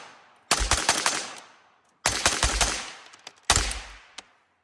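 Airsoft guns fire at a range in three loud rapid bursts separated by short pauses, each burst a rattle of closely spaced shots.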